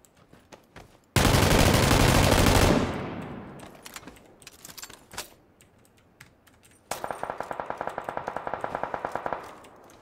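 Gunfire in the video game PUBG: a sustained burst of heavy automatic fire, then a second rapid run of sharp, evenly spaced shots, mixed with close keyboard clicks and quiet gaps.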